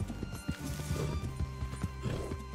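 Horse hooves clip-clop in a steady rhythm in Red Dead Redemption 2 as a trusty steed rides near Braithwaite Manor, close and clear over a low game backdrop, with occasional snorts.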